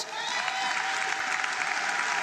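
Audience applause for a secondary-school student winning an award at a matric results announcement, a dense sustained wash of clapping from a large crowd, steady and fairly loud throughout.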